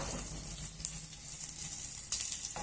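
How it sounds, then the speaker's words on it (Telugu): Onions frying in a pan, added after green chillies and curry leaves for palak rice, give a soft, steady sizzle at low level with a couple of brief clinks, and no one speaks. "ఉల్లిపాయలను కూడా ఎర్రగా వేయించుకున్నాము"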